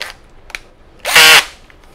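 A cordless drill screwdriver used for drilling ceramic tile with a RUBI bit, a few faint clicks, then a loud close whirring burst of about half a second that stops abruptly.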